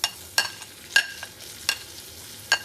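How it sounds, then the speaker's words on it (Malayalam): Small onions sautéing in a pan with spice powders, heard as a quiet, rhythmic series of spatula scrapes and stirs, about four strokes, over a soft background. "ഉള്ളിയും കൂടെ ഇടാം. എന്നിട്ട് നന്നായിട്ട് ഒന്ന് വഴറ്റിയെടുക്കാം."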